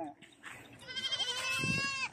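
Goats on a farm bleating close by, a long wavering cry rising and trembling over a second or so, with a voice speaking in the background.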